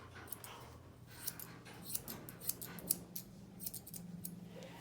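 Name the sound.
scissors trimming feathering on a double coated dog's legs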